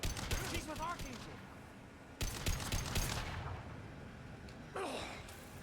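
Gunshots in the video game Mass Effect 2, sharp cracks in a few separate bursts over background game sounds, with voices talking throughout.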